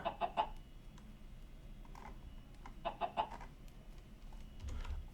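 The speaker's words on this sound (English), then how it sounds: "I am going to have to move those chickens." Chickens in the Minecraft modpack Forgecraft give two short bursts of clucking, one near the start and one around the three-second mark, with quieter clucks between them over low, faint background noise.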